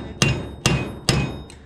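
Three loud, sharp hammer blows at an even pace, with a fainter fourth strike, metal being struck while a combine harvester's header drive is taken apart.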